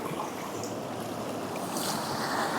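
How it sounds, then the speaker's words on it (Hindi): Fresh mountain water flows and splashes at Oeschinensee near Kandersteg, Switzerland, a steady broadband rush heard up close with no talking. "देखो ये देखो, कुदरत का पानी आ रहा है बढ़िया."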